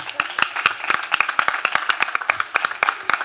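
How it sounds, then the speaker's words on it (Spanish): A small group claps briskly for a few seconds, sharp overlapping hand claps at a steady pace, fairly close. "Un aplauso muy grande."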